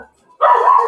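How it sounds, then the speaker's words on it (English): A dog bursts into a single sustained bark or yelp during a church service, loud and close after a brief quiet moment. "when the dog stops barking"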